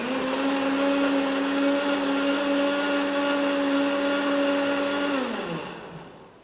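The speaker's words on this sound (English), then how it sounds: "we put it in the grinder and adding some more" Electric grinder whirring as it chops fresh cedar leaves, a steady loud motor drone with a strong tonal hum that holds for several seconds, then winds down and fades at the end.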